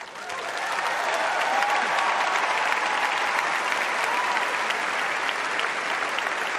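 Sustained applause from a large crowd at a Wimbledon tennis match fills the whole stretch, loud and steady, with no talk over it.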